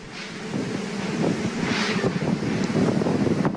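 Strong wind buffets the microphone while waves crash and churn on Laguna de Bay during Typhoon Glenda, a loud continuous roar with no voices.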